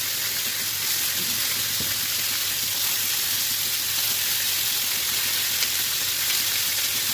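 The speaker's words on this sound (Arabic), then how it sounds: "معايا هنا بقى مقلايه وضفت فيها حبه زيت، ابدا اشرح فيها ايه، اشرح فيها اللحمه على طول" Marinated meat sears in a very hot frying pan with a little oil, giving a steady, close, loud sizzle that holds evenly throughout with no talking.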